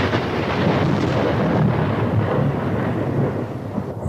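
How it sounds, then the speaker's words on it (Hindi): A long, heavy rumble of thunder after a lightning crack, used as a horror story effect, loud and dense throughout and fading slightly at the very end. "तभी बिजली कड़की।"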